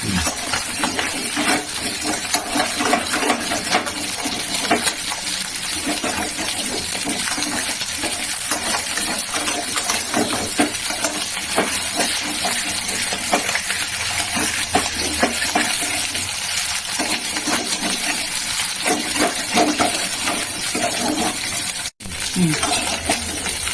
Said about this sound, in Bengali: পম্পটগুলো বেশ ভালো ভাজা হয়ে গেছে এবার তুলে নিচ্ছে